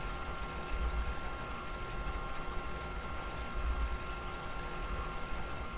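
Photocopier mechanism recorded as the source for the Doom chaingun's revolving loop: a steady, loud mechanical chugging hum with a rhythmic low thump recurring about every three seconds, alone.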